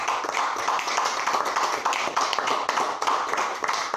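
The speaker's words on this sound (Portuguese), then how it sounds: "e as palmas é para Jesus" A church congregation claps for Jesus at the close of a prayer, a steady, dense patter of many hands filling the room at moderate volume with no clear speech on top.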